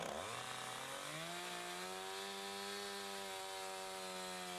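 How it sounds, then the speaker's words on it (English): A chainsaw cuts a groove into wood, its engine revving up in pitch and then holding a loud, steady, buzzing whine throughout. "Use a low angle for the chainsaw bar."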